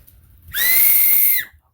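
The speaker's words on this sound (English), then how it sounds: "Emergency whistle." An emergency whistle packed with a Sanjian 13-inch wood hatchet kit gives one loud, steady shrill blast lasting about a second, alone with no talking.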